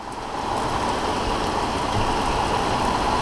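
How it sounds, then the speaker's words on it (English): Heavy rain pours down steadily in Boqueron, Puerto Rico, a dense, continuous wash of drops drumming on nearby surfaces with no break and no voices. "let's get some rain. Let's do it. Just like that, free water. It is coming down."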